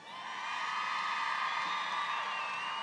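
Large campaign rally crowd in Prescott, Arizona cheering and whooping steadily, a loud sustained roar of many voices with shrill yells on top, filling the whole stretch without a break.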